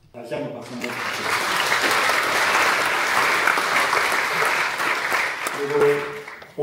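Sustained applause rises from a congregation at a thanksgiving worship service held at the Armed Forces Central Church. The clapping swells quickly, holds loud and even for several seconds, and then tapers off as a voice begins.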